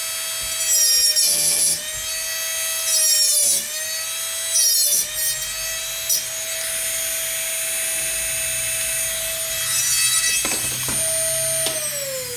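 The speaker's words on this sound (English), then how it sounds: "to do now is start sanding it." A power tool whines steadily while a wooden fountain pen is sanded, with a sustained high tone. Louder grinding bursts come and go as the piece is worked, and no one speaks.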